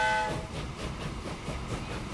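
A Baldwin Six Wheels steam locomotive in Transport Fever 2 gives a short, bright whistle blast, followed by the soft rhythmic clatter of rolling wheels and carriages.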